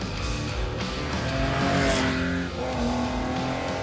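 An air-cooled Porsche 911 drives past with a steady, loud engine drone and tire noise filling the whole stretch, no voices.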